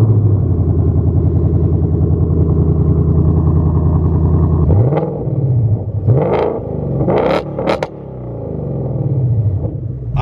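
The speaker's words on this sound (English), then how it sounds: "let's fire up the ignition and hear how this all new AWE exhaust upgrade" A 2024 Ford Mustang Dark Horse fitted with an AWE exhaust idles loudly with a deep, steady burble, then revs sharply several times in quick, rising blips before settling back to a rumbling idle up close.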